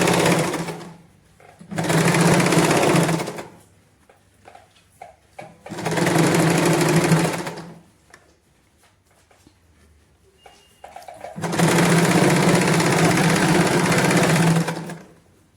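A sewing machine runs straight stitches along a palazzo seam in three loud, steady whirring runs of a few seconds each, with quiet pauses and soft handling clicks between them.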